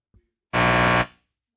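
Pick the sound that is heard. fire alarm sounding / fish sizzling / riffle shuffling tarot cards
fire alarm sounding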